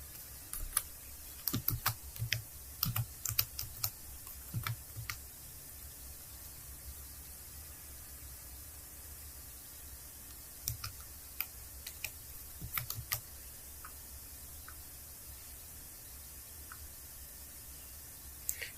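Keys on a computer keyboard are typed in short bursts of quick clicks, pausing between entries, close and fairly quiet over a steady background hiss.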